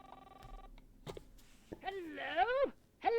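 Telephone rings in the video game Nine Noir Lives, a short electronic tone burst early on, followed by cartoonish character voices talking loudly.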